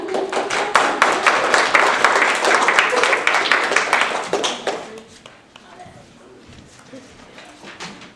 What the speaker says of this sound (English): we should all give him a round of applause to Henry Comfort